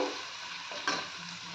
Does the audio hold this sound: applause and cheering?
no